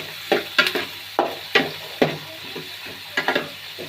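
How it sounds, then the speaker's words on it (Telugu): Onions fry in oil in a pan, a low bubbling sizzle punctuated by repeated sharp scraping strokes of a spatula, several in quick clusters. "ఇప్పుడు ఈ ఆనియన్స్ని ఫ్రై చేస్తుంది ఫ్రెండ్స్"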